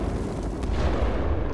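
Grenade explosion in the Titanfall 2 campaign, a brief, moderately loud burst with a rumbling low-end tail that stays steady through the short moment.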